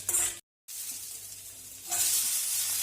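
Onion and grated coconut sautéing in a pan for misal, a close steady sizzle with spatula stirring, briefly cut to silence before the frying hiss swells louder again.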